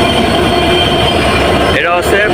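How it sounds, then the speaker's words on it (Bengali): Benapole Express 6605, running from Dhaka toward Jessore and Benapole, rolls loudly into a station platform with a heavy, continuous rumble of wheels, and a brief metallic squeal rises near the end. "এই যে বেনাপোল এক্সপ্রেস"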